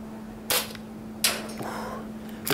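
An S&T KAR98K airsoft rifle with a real wood and steel build fires two sharp, close shots about three-quarters of a second apart, each leaving a short rattle afterward.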